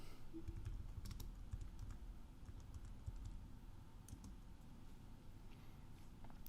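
Quiet clicking of typing on a computer keyboard while naming a new story in Twine software, a steady run of light, irregular keystrokes close to the mic with no talk.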